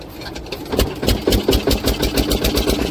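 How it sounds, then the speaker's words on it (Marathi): A fishing boat's engine, hand-cranked at sea, catches and settles into a rough rhythmic chugging with regular thumping pulses, loud and close, no talking. "तर मित्रांनो आपली बोट चालू झाली आहे"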